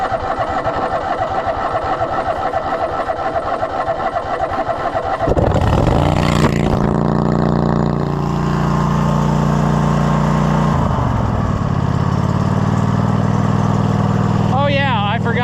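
A zero-turn lawn mower engine with its muffler missing starts after a few seconds of rough cranking, then runs loud and raw at a steady idle close by, with a brief rev partway through.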